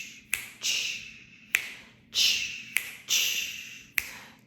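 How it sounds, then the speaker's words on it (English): Crisp finger snaps keep a loose rhythm, about six sharp clicks spaced roughly half a second to a second apart, with soft breathy hisses between them and no talking. "you can snap your fingers or put your hands together, get a rhythm here"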